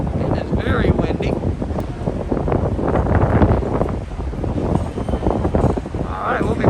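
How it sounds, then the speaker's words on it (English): Strong wind in Nassau buffets the microphone in loud, continuous gusts, roaring and rumbling throughout, with faint voices underneath. "It is very windy."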